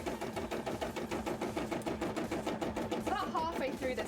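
An embroidery machine stitches in a fast, even mechanical rhythm of repeated needle strokes, close and steady throughout, with a voice briefly audible near the end.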